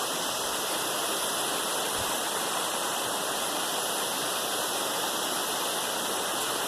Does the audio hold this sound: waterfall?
yes